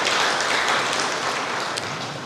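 A church congregation claps for God during a sermon, a dense, even wash of applause that holds steady and fades slightly, heard from the crowd without voices on top.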